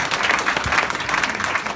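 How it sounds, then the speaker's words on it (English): An audience applauds steadily at a panel conversation, a dense patter of many hands clapping at even loudness throughout. "Give a big round of applause."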